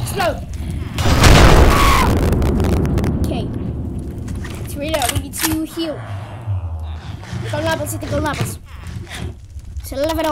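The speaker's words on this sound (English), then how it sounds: "Okay, explode myself." A Minecraft player's self-triggered explosion lands as a loud, near boom with a broad burst early on, followed by scattered game sounds and someone talking over them.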